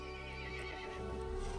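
An angry horse in Resident Evil Village gives a faint, short whinny over a droning, tonal musical backdrop, with a trace of hoof clip-clop.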